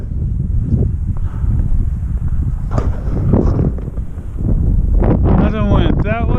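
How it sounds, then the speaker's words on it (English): Strong wind on an open mountaintop buffets the microphone in a steady, loud roar that barely lets up, with brief rustling and movement sounds near the end. "Still windy."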